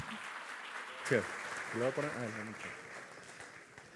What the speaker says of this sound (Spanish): Para él un fuerte aplauso